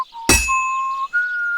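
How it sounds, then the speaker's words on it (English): Two ringing metallic hammer strikes on a sword at a blacksmith forge in Kingdom Come: Deliverance 2, spaced over a second apart, with a steady whistled tune carrying between them. "When I hammer a piece to a beat, the work goes by easier."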